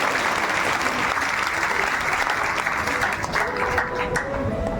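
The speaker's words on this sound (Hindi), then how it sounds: "ताली बजाओ" A studio audience at a quiz show claps steadily and loudly for the whole stretch, a dense, even wash of applause with faint voices underneath.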